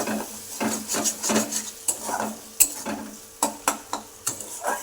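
Fish frying in oil in a pan in a village home kitchen, a steady close sizzle broken by repeated sharp clinks and scrapes of utensils against pots and dishes.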